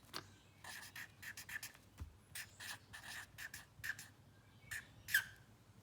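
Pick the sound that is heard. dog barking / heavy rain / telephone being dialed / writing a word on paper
writing a word on paper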